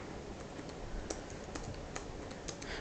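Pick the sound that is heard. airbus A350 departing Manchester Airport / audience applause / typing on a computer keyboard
typing on a computer keyboard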